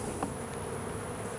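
Honeybees hum faintly and continuously in an open hive, a soft, even buzzing with a brief louder pass near the start and no voices.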